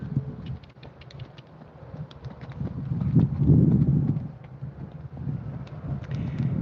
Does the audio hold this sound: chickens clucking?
no